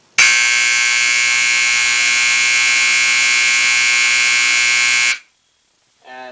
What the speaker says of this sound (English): Hope you enjoy this second loudest horn that I have.